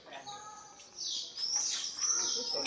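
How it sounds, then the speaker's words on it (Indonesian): Small birds chirp and tweet at close range through a morning scene, with high twittering calls that grow busier and louder partway through. Faint voices are heard in the background. "Jadi pagi hari burungnya teng ceruit."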